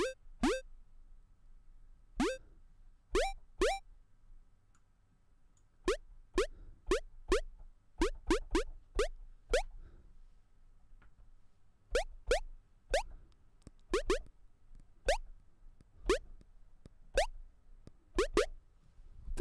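Chiptune notes from the Magical 8bit Plug 2 synth plugin, short bright blips with quick pitch bends, played as a sparse melody in irregular bursts separated by brief gaps, with no voices.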